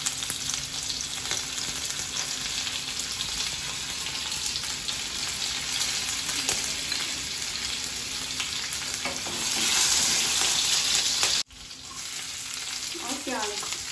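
Green chilli and garlic frying in hot oil in a pan for Indian-style macaroni, a loud continuous sizzle with stirring, swelling briefly then cutting off before resuming, no talk.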